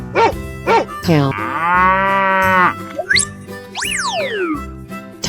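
A cartoonish cow moos loudly in a 3D animal slide video game, one long drawn-out moo framed by playful boing-like and bell-like game effects, with no talking.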